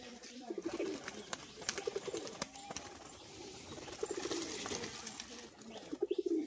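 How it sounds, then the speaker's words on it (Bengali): Pigeons coo in soft, rhythmic low bursts, fairly near but quiet, repeating several times against a faint background of chirps and clatter. "একটা মাদি পায়রা আর এটা মেল পায়রা"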